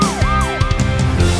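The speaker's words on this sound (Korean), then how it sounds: "용감한 소방차가 출동합니다" A wailing siren sweeps up and down in repeated arcs over a steady background of music and clatter, loud and close.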